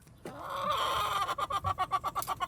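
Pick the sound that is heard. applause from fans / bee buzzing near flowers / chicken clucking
chicken clucking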